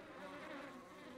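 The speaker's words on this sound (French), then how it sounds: "Et on a effectivement des abeilles." Bees buzz steadily in the video game Book of Hours, a soft continuous drone with no talk, at the same level throughout.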